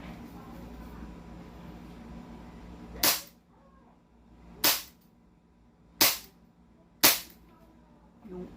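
An airsoft gun with blowback fires four sharp, loud cracks, spaced about a second or more apart, each followed by a quick decay over a low background murmur.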